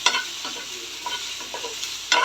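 Onion pieces frying in mustard oil with tok pata leaves, giving a soft, steady sizzle with a few light stirring scrapes and a louder clatter near the end. No speech.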